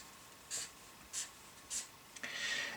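A pencil scratches short strokes on paper, drawing the places for a six-digit number: three brief scribbles at an even pace, then a longer stretch of writing.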